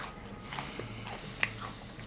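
Rice cakes are crunched and chewed close to the mic: quiet, irregular bites with one sharper crunch midway, and no talking.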